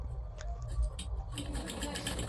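A sewing machine stitches a bag made from a cement sack, giving a short burst of motor whir close by, with a voice speaking over it.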